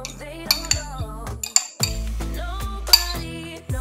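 A utensil stirs pork and homemade barbecue sauce together in a pot, with repeated metallic scrapes and clinks against the sides at an uneven rhythm, close and clear with no talking.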